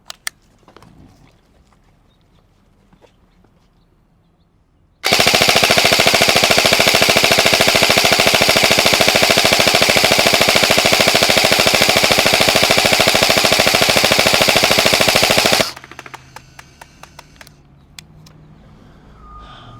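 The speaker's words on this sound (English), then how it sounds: "see what kind of support we can lay down on full auto and how accurate we are without cleaning the barrel" A G&G CM16 LMG airsoft electric gun fires one long, loud, sustained burst on full auto for about ten seconds, breaking off abruptly into quieter ambient outdoor noise.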